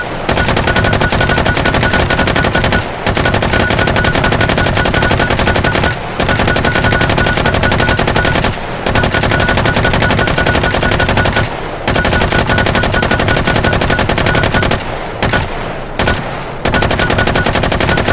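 Sustained automatic gunfire from the VR shooter H3VR rattles loud and dense, broken by a few short pauses and quick bursts near the end.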